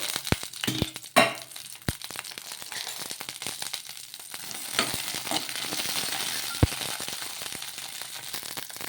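Green chillies cook in a little oil in a kadai, giving a soft sizzle under sharp clicks and taps from stirring, fairly close and quiet with no talking.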